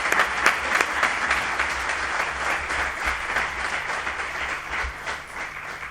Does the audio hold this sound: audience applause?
yes